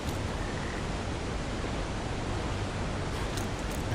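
A waterfall in the video game The Mound: Omen of Cthulhu gives a constant, loud, broadband rushing roar of falling water that stays even from start to finish.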